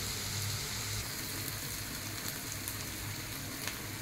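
Onions with a little salt frying on low heat in a pan for egg curry, giving a steady, continuous sizzle with soft crackle throughout and no talking.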